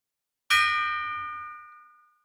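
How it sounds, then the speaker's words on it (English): A single struck gong rings out once, bright and metallic with a sharp attack, then decays smoothly over about two seconds, heard alone without talk. "So the gong has rung"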